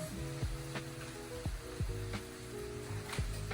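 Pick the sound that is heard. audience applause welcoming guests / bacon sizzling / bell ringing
bacon sizzling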